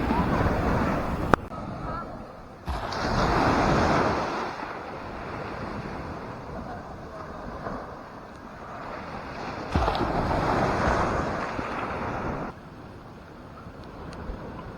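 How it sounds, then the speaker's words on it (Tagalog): Gentle ocean waves in a sheltered beach cove at Playa Simeona, Bataan, surging and receding in slow swells, with wind buffeting the microphone and people talking nearby. "Kaya yung alon hindi ganun kalakas eh."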